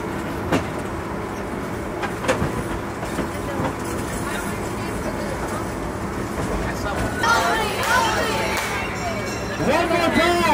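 A haunted attraction train ride on a farm rumbles along at a steady pace, with clattering wheels and a crowd of riders shouting and talking loudly over it.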